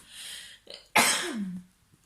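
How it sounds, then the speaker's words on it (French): A single close sneeze: a brief breathy intake, then a sharp loud burst that trails off into a short voiced tail, alone in a quiet room. "comme d'habitude, les éternuements de vidéo"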